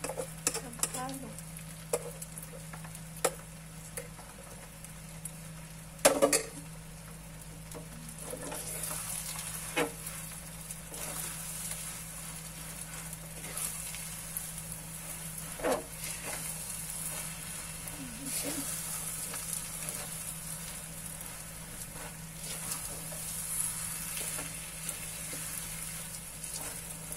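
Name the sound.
stirring biko sticky rice cake in a pan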